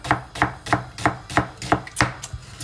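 A knife chops onions finely on a board for restaurant-style chicken mandi, about eight quick, even, close strikes in a steady rhythm, with no voices.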